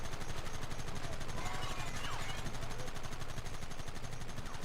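Gunfire in the Red Dead Redemption video game comes as a continuous rapid, rattling stream of shots, fairly quiet and steady throughout with no break.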